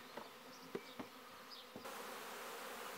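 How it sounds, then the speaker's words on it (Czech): A honeybee swarm buzzes faintly during natural swarming, with a soft drone and a few brief passing hums of individual bees close by, then a steadier hiss-like buzz toward the end. "Včely vlastně neulítnou, ale vyrojí se při rojení a vytvoří roj."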